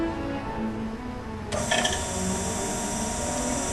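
The hydraulic system of an ACER Supra-818AHD surface grinder switches on midway, adding a sudden mechanical whir and hum above a steady running machine drone in a workshop.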